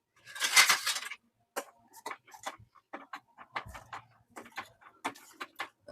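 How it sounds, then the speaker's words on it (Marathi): A spoon stirs kheer made with milk and crumbled laddoos in a pot, giving a string of light, irregular clicks and taps against the metal after a brief rustling burst at the start. "चमच्याने ढवळून घेऊया."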